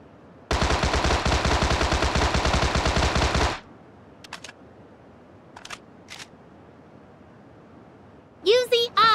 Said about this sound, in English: Tommy Gun.